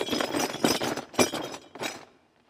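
Broken glass shards rattle and clink inside a box, shaken in four rough bursts close by, the last one trailing off into quiet.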